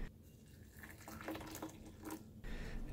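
Boiling water poured into a gaiwan of Long Jing green tea, a steady close-up splashing and filling stream that swells and shifts over a few seconds, with no talk.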